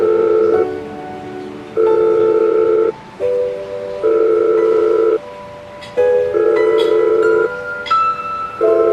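A telephone call's tone sounds in steady, evenly spaced electronic beeps about a second long, each followed by a brief gap, clear and close with no voices.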